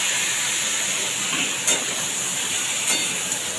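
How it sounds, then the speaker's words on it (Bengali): Cauliflower florets and a few potatoes hit hot oil left over from frying fish, giving a steady, loud sizzling hiss throughout with a couple of brief sharper crackles. "ওই মাছ ভাজা তেলে সবজিগুলো দিয়ে দিচ্ছি।"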